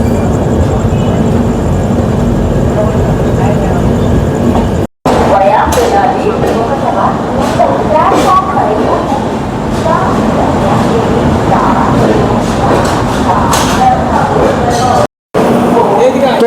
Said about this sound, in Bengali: আমাদের ট্রেন এখানে 2 মিনিট দাঁড়াবে।